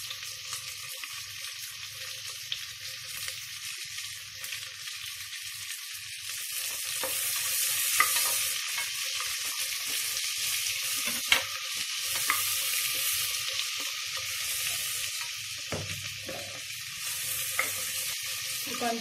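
Green chillies sautéing in hot oil for beetroot pulao, a steady close hiss of frying with occasional stirring scrapes and taps, no talking.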